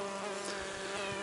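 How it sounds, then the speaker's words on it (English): A mason bee buzzes close by in April near a nest site with mud, a steady, even drone that lasts the whole moment with no voices. "There's a bee there waiting with the mud."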